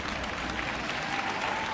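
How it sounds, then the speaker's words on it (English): During a motivational talk, the audience claps in a steady, dense burst that holds for the whole short moment with no pauses. "somebody ought to clap on that."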